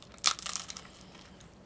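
Crisp crunching bites into a fried Japanese dagashi snack, close and fairly quiet, with a couple of sharp bursts early on, softer chewing crackles after and one more crunch at the end.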